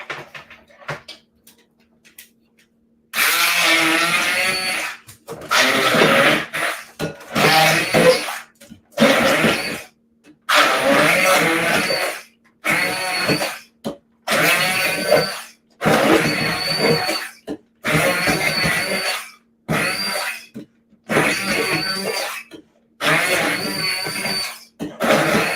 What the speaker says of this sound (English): Stick immersion blender.